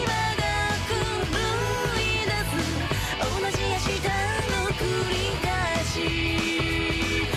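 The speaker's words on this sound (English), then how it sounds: "that is the sound of punchy drums, especially that kick" A rock song plays continuously and loud, driven by a punchy kick drum locked with the bass guitar under dense layered instruments, with no talking.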